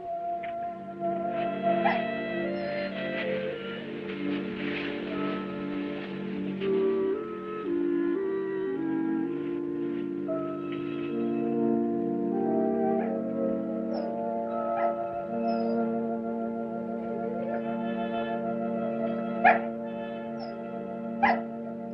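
A dog, tagged in the talk as being kept on a leash, whimpers and gives short yips and barks over a steady bed of film music, the cries intermittent and fairly close.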